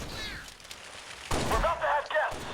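Pistol and assault rifle fire in Halo: Spartan Assault, a short loud burst of rapid shots after a quiet moment, with game sounds around it.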